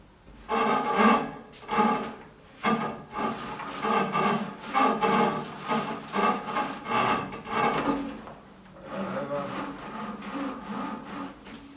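Rope threaded through wooden loops makes a steady run of close, rasping rubs and dry creaks in rhythmic strokes, growing quieter toward the end.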